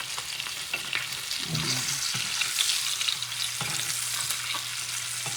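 Salmon skin fries in butter in a pan with a steady, close crackling sizzle, soft stirring scrapes and a low hum underneath, and no voices.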